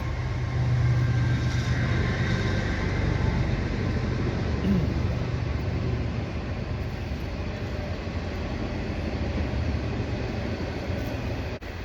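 A steady, rumbling train noise rolls on continuously at moderate distance, a broad low roar that slowly fades slightly toward the end.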